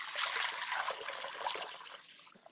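Hot water poured into a bowl, a steady splashing rush heard close up and alone, easing off slightly toward the end.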